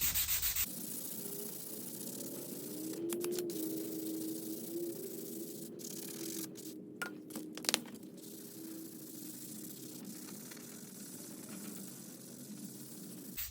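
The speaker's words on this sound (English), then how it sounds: "So we got a little piece of 220 on this little bitty sanding block." Steady, even rasping of a small hand sanding block with 220-grit paper rubbing back and forth on an electric guitar, continuous and close, with a few brief sharper scrapes partway through.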